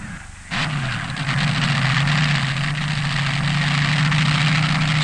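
Top fuel drag racing car from the 1972 NHRA World Finals semifinal, its engine holding a loud, steady low rumble that starts abruptly and carries on throughout, with no voices.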